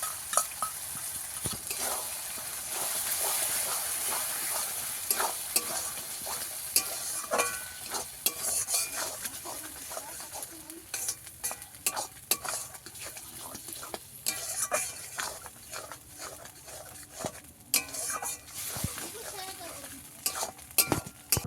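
Chicken curry with sour yogurt being sautéed and stirred in a pan, a steady bright sizzle running throughout with repeated scraping stirs and occasional clinks of a utensil against the pan, close up and with no talking.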